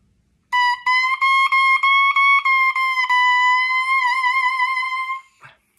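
A bare oboe reed on its metal staple played alone, giving a loud, steady nasal buzz with a few rapid tongued pulses before sustaining for about five seconds, then cutting off.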